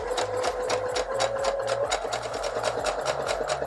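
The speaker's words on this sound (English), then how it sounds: "then we will continue to sew a straight seam" Sewing machine running a straight seam, a steady close rapid stitching rhythm without pause.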